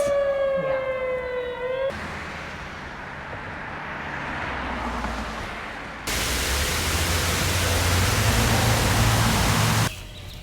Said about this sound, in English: Always comforting when a mystery siren starts going off half an hour before I'm gonna go into the woods